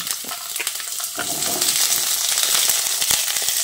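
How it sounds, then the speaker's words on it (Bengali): Cut potatoes tipped into hot oil with crackling tempering spices, including black cumin, set off a loud, steady sizzle that builds and holds, with scattered pops and spatters and no voices. "ঠিক এই পর্যায়ে আমি কেটে রাখা আলুগুলো ফোড়নের মধ্যে দিয়ে দিচ্ছি।"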